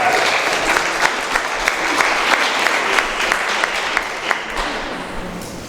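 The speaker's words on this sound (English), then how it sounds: "Let's give her a hand as we welcome her." An audience at a women's empowerment summit in Mattoon, Illinois claps steadily to welcome someone speaker, a dense, even wash of applause that holds at one level throughout, with no one speaking over it.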